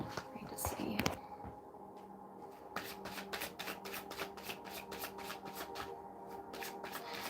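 Life purpose cards shuffled by hand close up, a quick run of crisp riffling flutters in a steady rhythm, quiet and intimate, with a soft voice murmuring early on.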